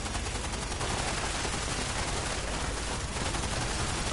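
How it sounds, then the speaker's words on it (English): Minigun fire in Fallout 76, a dense, continuous roar of rapid shots going non-stop at close range and steady loudness, with no voices over it. "Minigun!"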